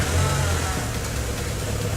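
A new Volkswagen Golf GTI engine turns over and settles into a steady low idle, the rumble loud and close throughout.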